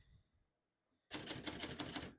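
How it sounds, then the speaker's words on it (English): A 1962 Hermes 3000 portable typewriter clatters in a rapid run of close, loud keystrikes after a brief quiet pause, with no talking. "We're going to keep that on single for now and finish typing."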